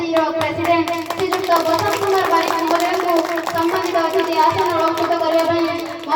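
Rhythmic clapping fills a school felicitation ceremony for the SMC, steady and fairly loud, with a sustained musical tone and children's voices mixed in.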